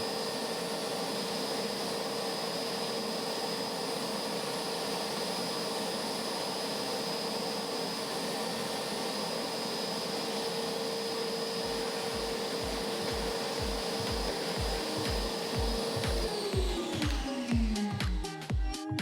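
A shop vacuum runs steadily with a cyclone dust separator on a simple scrap-built cart, a loud continuous whine with strong tonal hum, then its pitch drops and sputters as the motor winds down near the end.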